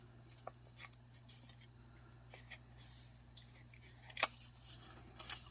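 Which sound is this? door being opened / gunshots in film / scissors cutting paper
scissors cutting paper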